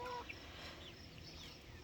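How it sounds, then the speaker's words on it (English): Young chicks nearly two months old cluck and peep softly in a small run, a faint, continuous flock murmur with no talking. "we now have all the chicken chicks who are pushing 2 months old"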